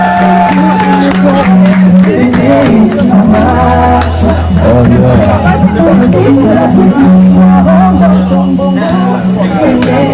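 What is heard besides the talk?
wedding guests applauding and cheering for the couple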